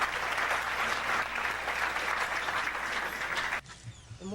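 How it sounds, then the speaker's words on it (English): Audience applause fills a hall, a steady dense wash of clapping that holds loud for several seconds, then cuts off abruptly into near quiet with only faint scattered sounds. "let's give our beloved sister, Lisa Left Eye Lopez, a round of applause"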